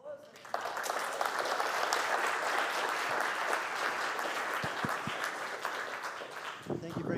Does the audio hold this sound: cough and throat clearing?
no